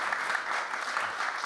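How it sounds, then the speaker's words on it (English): Steady applause from a conference audience for a panel of entrepreneurs and startup founders at an IT forum, a dense even patter of many hands held at constant level with no pauses. "let's give a round of applause for our cool panelists"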